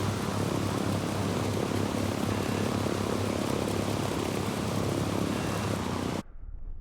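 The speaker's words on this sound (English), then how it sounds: "I gotta turn down the audio on that plane." A propeller airplane engine in the video game Ghost Recon Breakpoint drones loudly and steadily as a dense, broadband roar close by, cutting off abruptly near the end.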